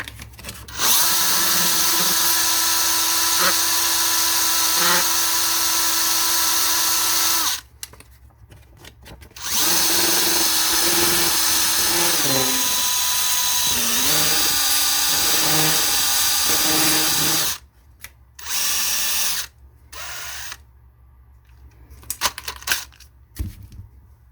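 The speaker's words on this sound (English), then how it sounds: "So that's how I grind my tires to make them look like they've been worn." Power tool grinding the tires of a 1:25 scale model car, with long loud high-pitched whining bursts of several seconds each, separated by pauses and followed by a few shorter runs and small clicks.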